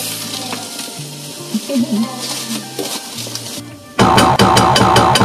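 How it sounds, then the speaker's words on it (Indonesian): Minced beef drops into a hot pan and sizzles loudly, sending up a bright, dense crackle with rapid pops. Quieter background sounds come first, before the loud, steady frying sound takes over. "Terus kita masukin daging giling nih guys, minced beef."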